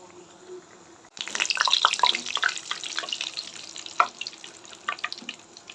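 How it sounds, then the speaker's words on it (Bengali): Food sizzles steadily in a frying pan for an egg recipe, a dense hiss that starts abruptly and carries on with scattered pops and crackles, close and fairly loud. "এগুলো আমি লাল লাল করে ভেজে নিব"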